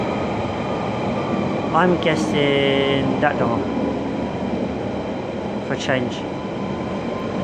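A train at a station platform at night, with a steady low rumble and hum and a few brief squeals and clanks, while nearby voices talk over it.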